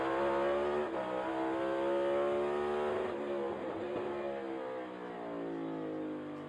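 NASCAR stock cars race through a turn during Cook Out 400 practice, a loud droning engine note that rises and then falls in pitch as the cars sweep past, heard with no voices.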